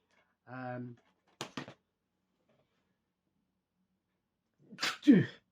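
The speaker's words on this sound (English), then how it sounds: "I had to sneeze, and I didn't really want to." A brief voice sound, a couple of quick sharp bursts, then after a pause a loud, close sneeze bursts out.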